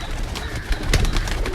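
Pigeons in a loft, part of a ten-bird deal including Teddy and Lal Pari breeds, cooing close by amid a busy noisy background with rustling and fluttering sounds.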